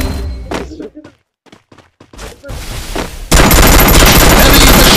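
In a shooter game, sparse thuds and short bursts break out before a heavy machine gun opens up in a dense, loud, continuous stream of fire that fills the last seconds.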